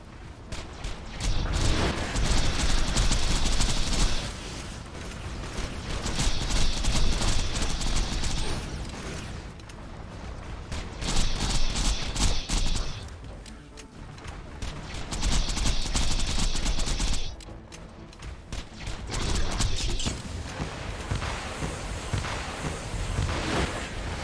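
Gunfire, rockets and heat-seeking missiles in Borderlands 2 during a Digistruct Peak raid as Maya: loud, dense bursts of rapid shooting and explosions coming in repeated waves of several seconds, with mechanical whirs between, no speech.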